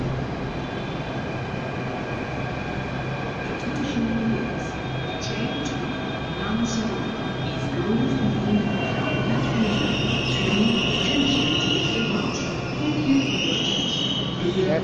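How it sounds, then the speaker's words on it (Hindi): Interior of a Jaipur metro train in motion, a steady loud rumble of wheels and carriage with faint squeals and hum throughout, rising slightly in the second half. "मेट्रो ट्रेन है ये"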